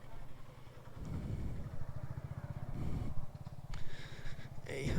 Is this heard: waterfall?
no